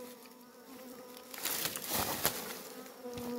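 A quiet swarm of bees at a hive of eucalyptus-sap honey hums steadily up close, the buzzing swelling briefly louder midway with a few soft crackles.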